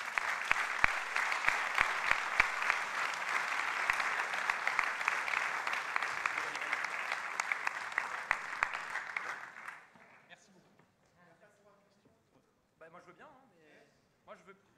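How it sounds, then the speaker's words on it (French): Warm audience applause at the close of a French conference session fills the first ten seconds, dense and steady, then fades out, leaving quiet talk in the room. "nos plus chaleureux applaudissements"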